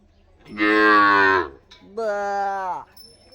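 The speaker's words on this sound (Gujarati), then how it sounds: "જો એક બાંધી દીધી છે વાસળી. જો કેવું બોલે" A calf tied up on a rural Gujarati farm moos twice, loud and close, two long bellowing calls separated by a short pause.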